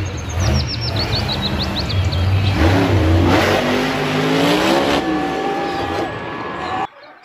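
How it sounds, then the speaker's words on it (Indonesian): A purple toy monster truck with yellow wheels gives a steady buzzing, revving engine-like whine, joined by shifting squeals and chirps, fairly loud and continuous before cutting out abruptly near the end. "Wis, ada mobil monster."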